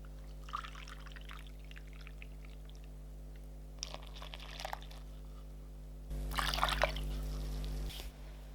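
Water poured into a bowl of flour, starter and salt while mixing sourdough bread dough: a faint first trickle, then a louder, steady pour of about two seconds near the end, with no talking.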